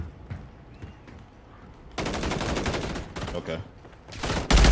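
Rapid bursts of video game gunfire from a multiplayer shooter crackle loudly in the second half, with a heavy blast near the end, while a voice speaks briefly over quieter game noise.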